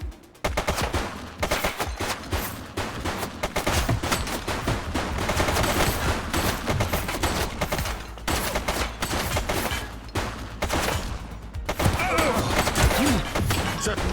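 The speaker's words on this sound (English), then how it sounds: "He's shooting!" Heavy gunfire in a police shootout in The Precinct video game, rapid overlapping bursts and crashing shots that fill the scene continuously for about fourteen seconds, loud and close.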